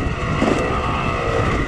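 A Yamaha YZ250X two-stroke dirt bike engine ripping along single track at Durhamtown, a loud continuous buzzing drone held steady throughout.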